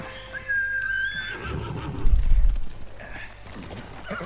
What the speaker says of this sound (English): why the horse suddenly appear out of nowhere?